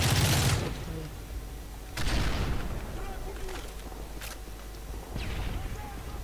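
Bursts of gunfire in the PC game Call of Duty: Modern Warfare 3 crack sharply at the start and again around two seconds, followed by scattered fainter shots and a speaking voice.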